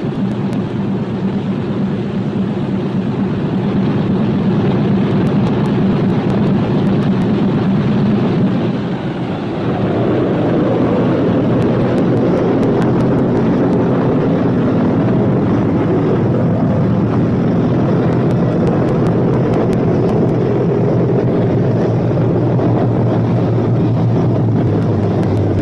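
Four-engine B-17 Flying Fortress bomber running its radial engines with turbochargers, a loud steady droning roar that dips briefly and then rises into a fuller, rougher rumble as the engines are revved up near the listener.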